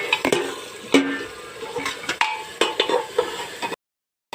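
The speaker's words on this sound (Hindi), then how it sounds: "अब हम इसमें ये हरी मिर्च और टमाटर डाल देंगे।" Masala and potatoes frying in a pan as green chillies and tomatoes go in, with close stirring scrapes, sizzling and a few utensil clinks, no talk.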